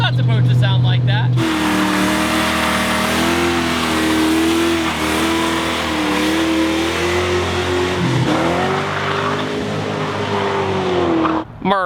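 A Nissan 240 with a swapped V8 engine is driven hard, with a sustained, loud engine roar that shifts in pitch as it revs and slides, dipping briefly near the end. Someone talks over it.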